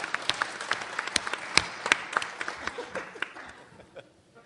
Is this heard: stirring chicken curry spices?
no